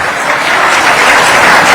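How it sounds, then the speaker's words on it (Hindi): Loud, dense applause from an audience at a Hindu religious gathering of saints, steady and sustained throughout with no voices standing out. "आज जो आप ताली बजा रहे हैं"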